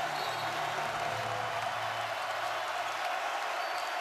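A basketball arena crowd in Champaign roars steadily in a dense, continuous wash of cheering and applause that holds at full strength without a break.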